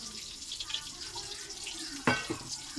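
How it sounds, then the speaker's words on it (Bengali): Water pours and splashes into a cooking vessel at close range, with a sudden louder gush near the end, while preparing a coconut and pointed gourd dish with white mustard seeds to be ground into paste. "তো পরিমাণে জল দেওয়া হলো"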